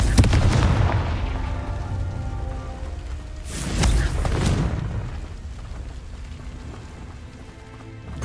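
Confringo explosive spells in Hogwarts Legacy burst with deep booming blasts, a heavy one at the start and another about halfway, each trailing off into crackling debris and rumble, loud and close.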